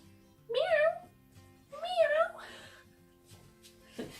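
A person imitates a cat with two drawn-out, rising-then-falling vocal meows, close and fairly loud, followed by a softer short voice sound near the end.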